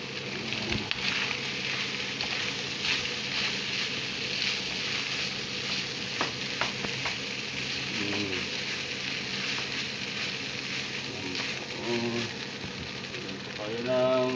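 Salmon fried rice frying in a large wok, a steady loud sizzle running throughout with occasional clanks and scrapes, while a person talks over it.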